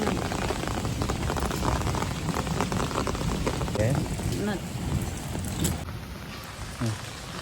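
Heavy, sudden rain pours steadily onto the road and nearby surfaces, a loud continuous hiss with faint voices underneath.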